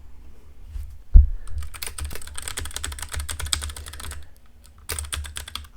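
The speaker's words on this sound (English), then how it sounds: "I like the keys. They're very clacky, very tactile." Clacky, tactile mechanical keys of a Freewrite Hemingwrite distraction-free typewriter are typed in quick close bursts after a single heavy thump, pausing briefly before a final flurry of keystrokes, with no talking.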